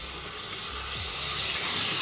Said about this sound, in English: Turn on the water first.